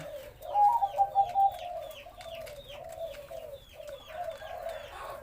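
Low, rounded cooing from a spotted dove of the wild-colour type calling to its mate repeats steadily, opening with a cluster of stronger pulses, then continuing as softer evenly spaced coos, near and unaccompanied by voices.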